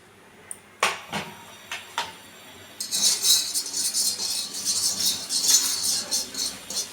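Cumin and fennel seeds are tossed into a pan that just held dried red chillies and dry-roasted for a raw mango pickle. A few metallic clinks and knocks come first, then a steady crackling, rustling sizzle.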